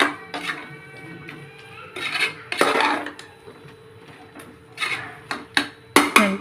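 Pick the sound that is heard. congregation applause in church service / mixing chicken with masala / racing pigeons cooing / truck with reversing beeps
mixing chicken with masala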